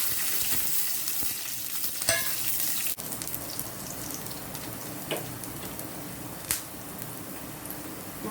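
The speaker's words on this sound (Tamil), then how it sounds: "இப்போ பாருங்க நல்லா பொரிஞ்சிருச்சு அடுத்து பூண்டு பல் சேர்த்துக்கேன்" Garlic cloves and ivy gourd chutney ingredients frying in hot oil, giving a steady close crackling sizzle throughout with a few sharper pops and spatters.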